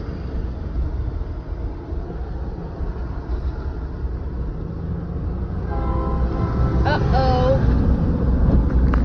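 A train rumbles past nearby at a crossing with a steady low roar, and a horn sounds partway through, under faint in-vehicle talk.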